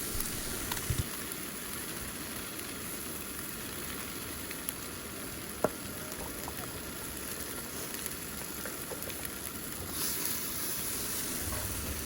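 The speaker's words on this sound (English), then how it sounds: "Listen to the sizzle." A turkey leg sizzles steadily in a pan over a car-camping stove at the beach, a continuous close crackle and hiss with a few sharper pops and no talking.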